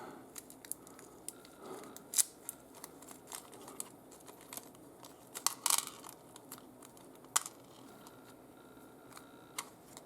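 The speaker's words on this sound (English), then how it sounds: "Now we're going to use the AM screws for this one. So I'm just going to dump these out on this lid" Small metal screws for a Knight Rider KITT model kit tipped onto a lid, scattered light clicks and rattles in a few bursts, close and fairly quiet.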